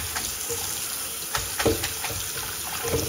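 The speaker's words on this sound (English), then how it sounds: "So now what I'm gonna do is fill this with cold water." Cold water runs steadily from a tap into a bowl, a continuous splashing gush with a few louder sloshes, no voices.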